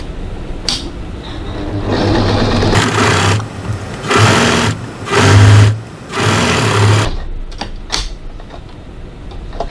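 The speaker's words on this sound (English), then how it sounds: "now we're going to stitch our bottom seam using a 1 centimeter 3/8 of an inch seam allowance" A sewing machine stitches the bottom seam of a crossbody bag at a 2.5 stitch length, humming loudly and close in several bursts of a few seconds each with short pauses between them, with no talk.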